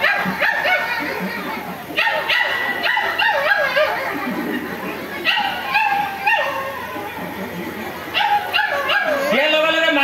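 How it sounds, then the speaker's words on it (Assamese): Small puppies bark and yip in repeated bursts at a Rongali Bihu gathering, the high yaps close and lively with some whimpering, heard over crowd noise and talking voices. "চানা কুকুৰবিলাকে ভুকিবলৈ আৰম্ভ কৰে।"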